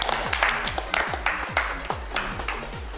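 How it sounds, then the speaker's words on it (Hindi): Scattered applause from a small group praising a furniture-polishing effort, with a handful of distinct, sharp claps in uneven bursts rather than a sustained ovation. "तालियां"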